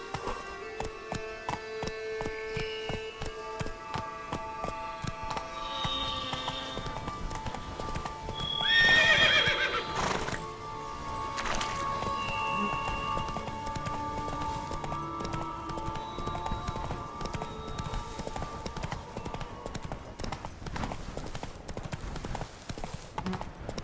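A horse gallops and whinnies in the Witcher 3 video game, with steady clip-clop hoofbeats layered over game music and a loud neigh rising in the middle.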